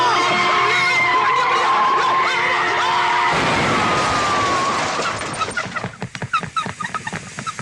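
A yellow lorry rolls in with a loud, drawn-out tire screech over a heavy rumble, then breaks into choppy, uneven bursts of noise as it comes to a stop.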